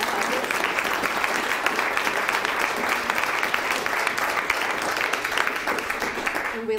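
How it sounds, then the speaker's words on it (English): Steady, dense applause from a lecture audience fills the room for several seconds after a talk on mass extinctions, a broad wash of many hands clapping at an even level throughout. "So I'm going to ask everyone to give a round of applause to our speaker"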